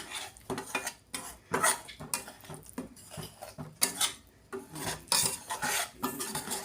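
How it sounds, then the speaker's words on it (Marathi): Fenugreek seeds that were soaked in ghee for four hours roast in a pan for Marathi laddoos, giving repeated scraping and stirring clatter against the metal with bursts of crackle and no talk. "मी आता तुपामध्ये चार तास मेथी भिजत घातलेली ती भाजून घेऊया आपण"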